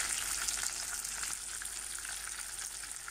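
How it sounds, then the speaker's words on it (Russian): Continuous high crackling sizzle of chebureki frying in hot oil, steady and close, with no talking. "Жарим чебуреки."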